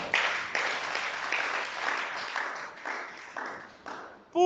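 A church congregation applauds in broad, swelling waves of clapping that gradually thin out, ending with a brief tonal electronic sound at the very end.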